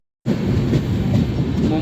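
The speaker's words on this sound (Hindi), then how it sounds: "मुंबई की लोकल।" A Mumbai local train passes loudly close by, its rumble and rhythmic wheel clatter starting abruptly after a brief silence and staying steady.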